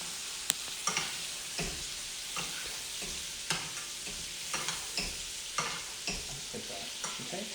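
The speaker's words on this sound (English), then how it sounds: "And then I'm going to baste them, and that's how I'm going to continue to cook the rest of the scallops" Seared jumbo scallops sizzle in browning butter as they are basted. A steady, fairly quiet frying hiss is broken by regular spoon taps and spatters, with no talking.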